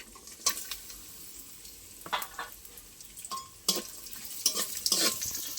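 Cashews and raisins stirred in hot oil with cardamom, dry red chillies and bay leaves: a low steady sizzle broken by several sharp scraping stirs of a spoon against the pan, close by and moderately loud.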